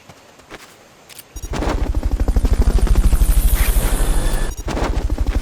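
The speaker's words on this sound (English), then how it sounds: "Fulton recovery subject confirmed onboard helicopter." Helicopter in Metal Gear Solid: Peace Walker: a loud, rapid rotor chop begins abruptly after a quiet stretch and pulses steadily, close and dominant, with a brief dip before resuming.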